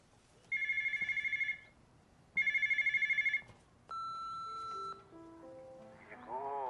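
A phone rings in two bursts of rapid trilling tones, followed by a short electronic melody of stepped beeps, clear and close in a quiet room.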